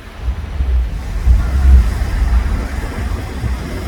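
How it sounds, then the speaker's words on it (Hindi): Cold wind gusts outdoors in sub-zero weather, a loud, steady buffeting rumble striking the microphone in uneven surges, with no voices. "तो बहुत ठंडी हवा चल रही है"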